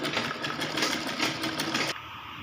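A sewing machine stitches cloth for a baby frock, a steady close mechanical whir with a fast even rhythm that runs continuously and then stops abruptly near the end.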